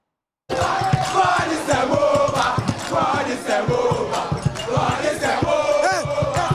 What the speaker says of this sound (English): Celebrated before a jubilant crowd at the University of Cape Coast